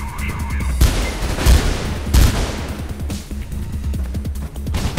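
Rapid bursts of gunfire from a captured weapon in the video game Mirror's Edge, loud repeated shots with heavy booming impacts over several seconds, no talk.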